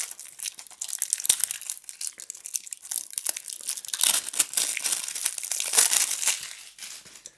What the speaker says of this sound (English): So you can see that the box is shrink wrapped. So we need to peel off that shrink wrap.